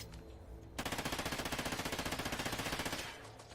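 A submachine gun in Call of Duty fires one long sustained automatic burst, rapid evenly spaced shots loud and close, cutting off abruptly after nearly two and a half seconds.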